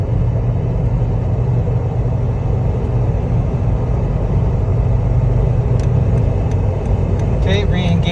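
A Jeep Wrangler JKU engine held at about 4,000 RPM while towing a 2,200-pound trailer makes a steady, loud, droning rumble that runs unbroken from start to end.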